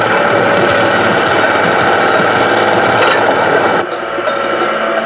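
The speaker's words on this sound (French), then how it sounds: "la pelle hydraulique dispose de moteurs de translation à double cylindrée autofreiné" A hydraulic excavator's diesel engine runs steadily, a loud continuous rumbling drone that drops slightly in level near the end.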